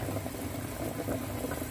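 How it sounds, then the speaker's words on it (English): Chicken abalone soup boiling in a pot over medium heat, a steady close dense bubbling and gurgling throughout, with no talk. "just combine all the ingredients and then boil for 1 hour and let it boil with a medium heat."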